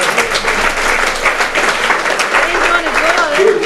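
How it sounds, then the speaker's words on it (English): A room full of people gives a big round of applause at a recovery meeting, loud and close with brisk, continuous clapping, and some voices talking over it. "Give her a big round of applause."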